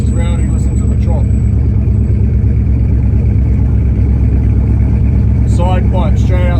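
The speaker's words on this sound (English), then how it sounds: "Benches rowdy, listen to the chop." A rebuilt Holden 304 V8 with a big cam and EFI delete idles loudly through a side pipe exhaust, a deep lumpy chop rumbling steadily up close, with people talking over it.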